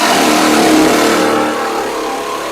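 A Grosser GJS 130 cordless jigsaw cuts through a clamped wooden board, making a loud, dense buzzing rasp that holds steady and then softens slightly toward the end, with no voices.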